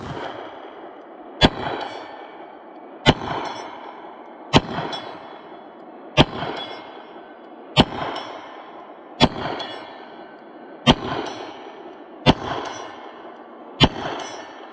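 CZ Tactical Sport 2 pistol fired at a target about 65 yards away: nine sharp, loud shots at a steady pace roughly every one and a half seconds, each followed by a short ringing decay, with no talking.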